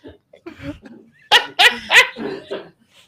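A dog indoors lets out a quick run of three or four loud barks and yips, ending in softer whimpers, with quiet vocal sounds before the barking starts.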